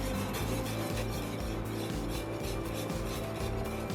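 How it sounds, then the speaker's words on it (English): Continuous metal whisk scraping and rubbing around a pan as pastry cream thickens on the stove, a steady fast rhythmic rasping with no pauses, close and moderately quiet. "I can feel as I whisk this that it's starting to thicken up a little bit."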